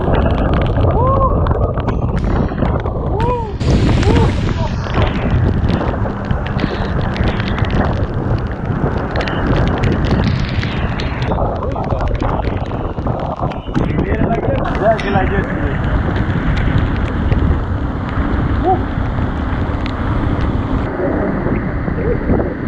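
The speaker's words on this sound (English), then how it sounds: "the wind now picked up even more" Strong wind roars and buffets the microphone during a Florida storm, heavy and continuous, with rain and hail beating on a boat and voices talking underneath.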